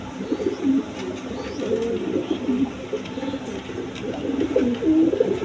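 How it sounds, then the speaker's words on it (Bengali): A breeding pair of big Spanish pouter pigeons cooing, a continuous low warbling stream of repeated coos, close and steady with faint background noise. "এক পেয়ার স্প্যানিশ গড়গড়ি পটার আছে"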